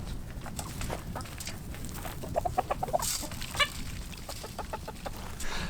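Chickens clucking and pecking at scratch feed in an outdoor farm run, with soft repeated clucks and a few sharper calls over a steady low rustle of wind and movement, moderately close.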